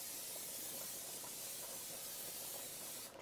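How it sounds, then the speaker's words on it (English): Cooking spray hisses onto a grill pan heating on an induction cooktop, a steady broadband spray lasting about three seconds close to the microphone before tapering off at the end. "I'm going to spray my pan."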